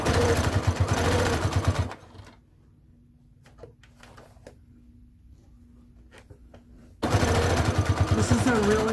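A sewing machine stitches around a fabric circle for a pouch in two loud, fast bursts of motor whirring. A quieter pause falls between the bursts, filled with light handling taps.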